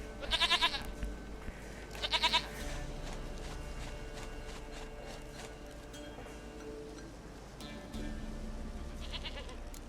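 A goat bleats in the video game The Witcher 3 over a quiet outdoor ambience. There are two sharp, wavering bleats in quick succession near the start and another fainter one at the end, with soft rustling in between.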